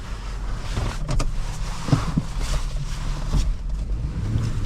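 A 2004 Ford Explorer 4.6L V8 engine rumbles steadily while driving at a moderate distance, with a low continuous drone and road noise, a few brief rattles over it.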